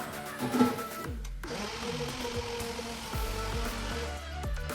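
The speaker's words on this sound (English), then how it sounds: "I do food process the banana so that we cannot feel or taste any texture" A food processor whirs as it blends banana for vegan pancake batter, a steady motor drone with shifting pitch and a few knocks and bumps.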